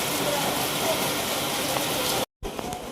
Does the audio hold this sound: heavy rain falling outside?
yes